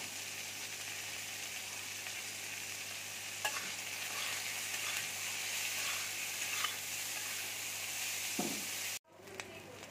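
Cauliflower and potato pieces fry in a pan with turmeric and salt, giving a steady loud sizzle with occasional stirring scrapes before a sudden brief cut near the end.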